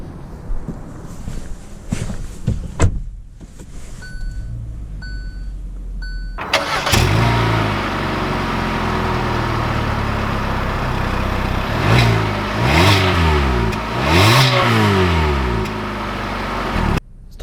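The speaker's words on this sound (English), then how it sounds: "let's take this 2020 Hyundai Venue out to see how it drives" A 2020 Hyundai Venue Denim Edition compact car is started with a brief crank and catch, settles into a close, steady idle, then pulls away with several rising and falling engine revs as it drives off.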